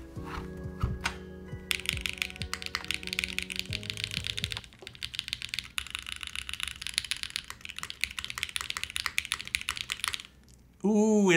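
Rapid typing on a KBDFan KBD8X mechanical keyboard gives dense, close, clacky keystrokes in quick bursts, with a short pause and a voice coming in at the end.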